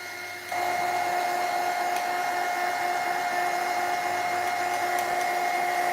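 A handheld hair dryer blows on a painted bunny figure to dry the paint, switching on after half a second and then whirring steadily and loudly with a constant high whine, close up and without talk.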